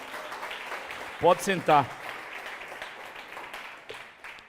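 Church congregation applauding during a worship service, a soft scattered clapping in the background while a voice speaks briefly over it.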